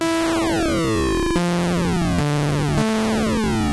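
Bright, buzzy Massive synthesizer notes each start with a rapid envelope-driven downward pitch sweep before settling, several in a row, loud and harsh.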